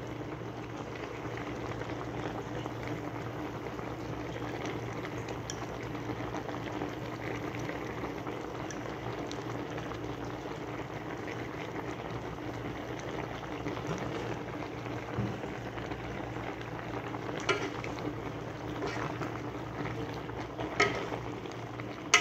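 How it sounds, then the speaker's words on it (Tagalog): Chop suey cooks in a pan as oyster sauce goes in, a steady bubbling and simmering texture with occasional light clinks and stirring noises throughout. "At finally, lalagyan na natin ng oyster sauce."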